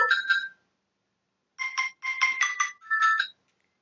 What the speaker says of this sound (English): heard the phone go off